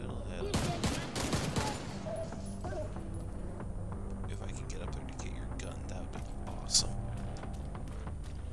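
Gunfire in the video game The Division 2: a dense burst of rapid shots early on, then quieter scattered distant pops and game ambience, with a voice speaking briefly.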